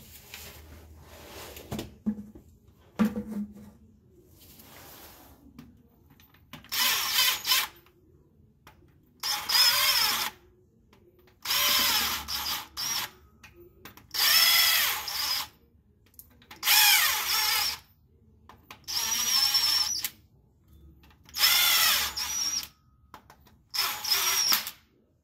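A power tool runs bolts up on an Allison 4000 Series 4070 transmission of an Oshkosh MTVR MK23 7-ton truck, whirring in about eight short bursts of a second or two each, separated by brief pauses, loud and close.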